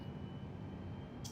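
Jet engines of an airliner spooling up in Microsoft Flight Simulator 2020, heard as a steady, low, rumbling drone with a faint whine. A brief airy hiss rises right at the end.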